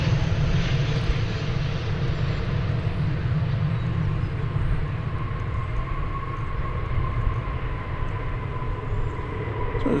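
A Boeing 777 airliner arriving at DFW Airport from Los Angeles gives off a steady, loud, continuous jet engine roar with deep rumble, sustained evenly throughout.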